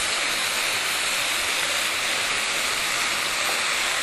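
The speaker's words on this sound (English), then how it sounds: "So just give it a good stir." A chicken, asparagus and mushroom stir-fry is stirred in a hot pan, giving a steady, loud, close sizzle and hiss that continues unbroken with no talking.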